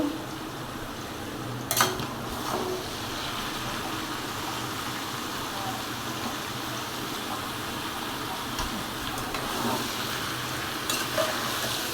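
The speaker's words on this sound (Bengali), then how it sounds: "এখন হচ্ছে এটাকে লাড়া দিব।" Food frying in a pan over high heat is stirred, with a continuous sizzle and occasional scraping knocks of the utensil against the pan; no one speaks.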